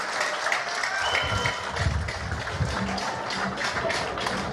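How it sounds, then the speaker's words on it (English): Sustained round of applause from an audience at a cabinet swearing-in ceremony in St. Kitts and Nevis, many hands clapping steadily and fairly loud throughout with no voices on top. "Let's give another rousing round of applause for our members of cabinet in the government of St. Christopher and Nevis."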